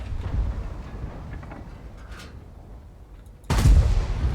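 Heavy cannon shots from tanks in World of Tanks, including the Maus prototype VK 100.01 P, with a dull boom early on and a loud, close blast near the end over a rumbling battle background.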